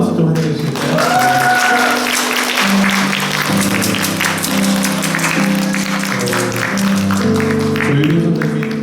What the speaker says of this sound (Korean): 뜨거운 박수 좀 환영해 주실까요?